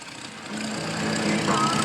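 A tractor engine runs in a strawberry field, a moderate mechanical hum that grows slightly louder over a couple of seconds.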